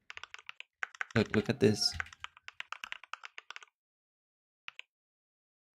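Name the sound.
typing on a computer keyboard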